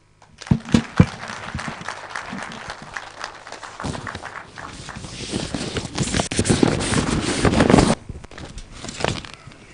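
An audience applauds at a national wildlife census launch in Kenya: a few scattered claps at first, then a denser round swelling and fading.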